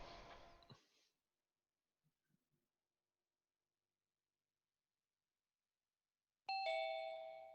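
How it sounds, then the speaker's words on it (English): A two-tone doorbell chime rings out once, clear and close, with a short burst of sound before and long silence between; no talking. "Ding dong."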